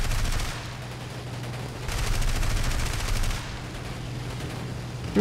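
Tank machine gun fire from War Thunder, a sustained burst of rapid automatic shots that swells and eases over several seconds against a steady engine drone, with no talk.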